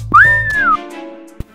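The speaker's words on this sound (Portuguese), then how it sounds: "Podem parar de assobiar." People whistling: a single loud, clear rising-then-level whistle lasting about half a second, followed by a short sharp click.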